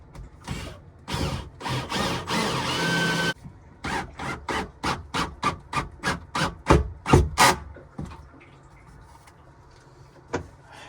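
A power drill whirs in a long continuous run, then bites in a quick series of short, loud bursts before falling quiet.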